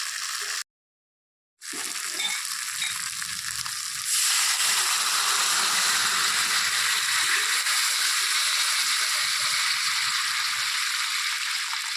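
Broth poured into a hot pan of catla fish head muri ghonto with rice and potato, a steady close sizzling hiss after a brief silence that grows louder and continues evenly.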